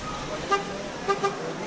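Car horns, including one from a Ford EcoSport, are tested in a shop, giving three short, bright toots at close range over a steady background murmur.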